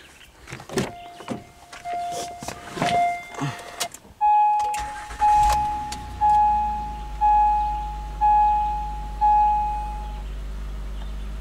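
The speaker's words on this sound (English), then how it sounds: "let's fire up the car and see if the compressor actually kicks on" An Acura car engine with a non-working air conditioner cranks and catches, then settles into a low idle as a chime beeps in an even, repeating pattern.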